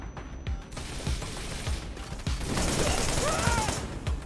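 Rapid bursts of gunfire and blasts in the action game Wanted: Dead, repeated sharp thumps in the opening seconds giving way to a dense, loud roar of combat with whistling tones near the end.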